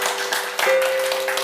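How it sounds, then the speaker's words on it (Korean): Church congregation clapping during a Korean worship gathering, a brief, fairly faint wash of many hands over a held keyboard tone, lasting just over a second. "우리 하나님께 영광의 박수 올려드립니다."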